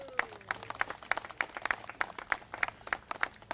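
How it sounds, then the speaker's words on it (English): Sparse, rhythmic clapping at a Native American monument dedication, honoring members of the California Native American Legislative Caucus; distinct individual claps in a fairly regular beat rather than a full ovation, moderately close. "So give them a round of applause there"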